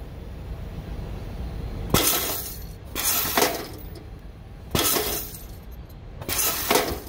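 An Edward Segal automatic grommet machine sets a grommet and washer, producing four sharp, loud metallic clanks spaced about a second apart, each with a short ringing tail, over a quiet background.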